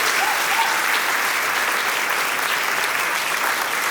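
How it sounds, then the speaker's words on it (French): A church congregation breaks into loud, dense applause, a thick, continuous wash of many hands clapping at once that stays at full strength throughout. "faites un applaudissement à faire exploser"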